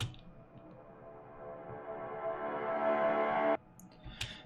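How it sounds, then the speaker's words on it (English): A reversed synth pad chord swells steadily louder for about three and a half seconds, then cuts off abruptly as a transition into a new section of an electronic track, with no talking. "I added some like reverse chords."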